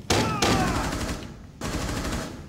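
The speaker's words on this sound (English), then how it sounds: "Trying to use that buck shotgun." Shotgun blasts in the video game Rainbow Six Siege: three loud, close booming shots with ringing tails, two in quick succession and then a third after a short pause.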